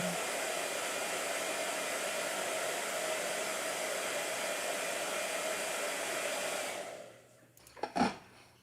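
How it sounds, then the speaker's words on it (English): A blow dryer runs loud and steady, close by, for nearly seven seconds, then cuts off, leaving a brief clatter and quiet room sound. "Blow dryer."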